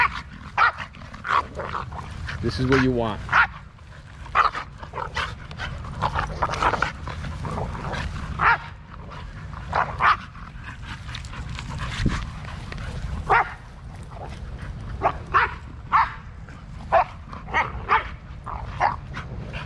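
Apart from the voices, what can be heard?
excited dogs barking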